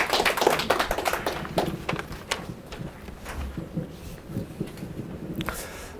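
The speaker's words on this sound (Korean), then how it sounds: "박수로 환영하겠습니다." Scattered applause from an audience at a community forum on urban community and religion, welcoming a church pastor to the front; the claps start loud and dense, then thin out into sparse, irregular taps over a low room murmur.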